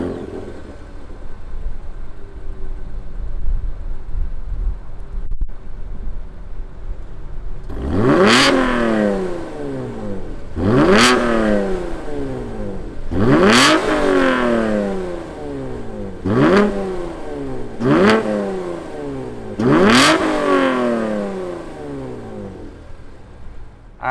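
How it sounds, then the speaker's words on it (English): A 2021 Chevrolet Camaro RS 1LE with a V6 engine idles, then revs hard six times in steady succession, each sharp climb falling back before the next, loud and close with no talking. "But why don't we fire up this V6 and hear what it sounds like."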